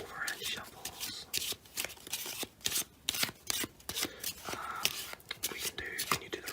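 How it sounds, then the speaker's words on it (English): Soft, repeated flicking and slapping of playing cards being shuffled overhand in short uneven bursts, with quiet talk in between. "We can do overhand shuffles."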